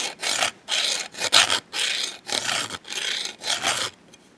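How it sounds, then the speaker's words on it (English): Hand file rasping across the jaw of a Harbor Freight 2-in-1 adjustable wrench, eight close, steady back-and-forth strokes with brief gaps between them, no voices. "if the file bites, that means it's soft"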